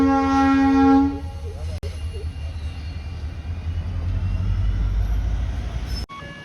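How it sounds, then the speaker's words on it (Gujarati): A loud train horn blast opens, then a steady heavy rumble of a train rolling past close by at a railway level crossing, with a couple of sharp clanks. "બીજી ટ્રેન પણ આવી ગઈ."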